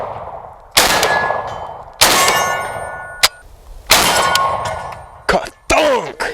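Airsoft BBs from a JTS AK12 rifle strike a metal target with loud ringing clangs, four main hits spaced about a second apart, each decaying with a metallic ring, then two quicker sharp impacts.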